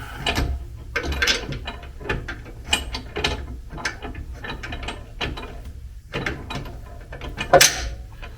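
Hand ratchet tightening a bolt while a cylinder is mounted on a Jeep Liberty rock crawler, close rapid clicking strokes in repeated bursts with brief pauses and a metallic clank near the end.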